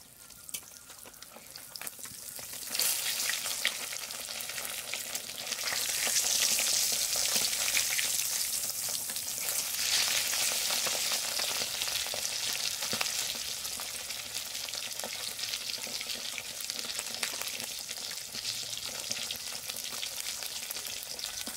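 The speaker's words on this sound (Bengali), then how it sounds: "তো মাছটা আমার এক পিঠ করে ভাজা হয়ে গিয়েছে। এবার আমি মাছগুলো উল্টে দেবো।" Parshe fish fry in hot oil in a pan, starting quietly and then breaking into a loud, continuous crackling sizzle around the three-second mark that holds steady to the end, with no speech.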